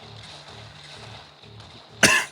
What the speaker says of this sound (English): here comes the cough